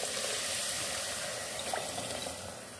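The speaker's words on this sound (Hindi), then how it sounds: "जितनी हमने चीनी डाली उतना इसमें हम पानी डालेंगे।" Water is poured into a pot of sugar to make syrup: a steady, close rushing splash that runs for a few seconds and eases off slightly at the end.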